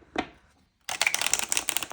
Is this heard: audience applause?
no